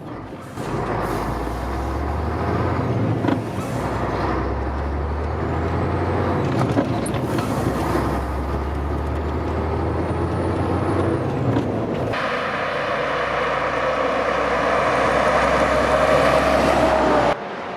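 A heavy MAN F90 truck drives on the road with a loud, continuous engine drone and deep rumble, and a brief hiss near the middle; no voices are heard.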